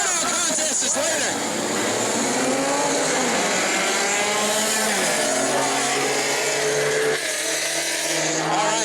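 Race cars roaring off at the green flag of a speedway feature race, a loud, continuous wall of engine noise with pitches sweeping up and down as the field accelerates.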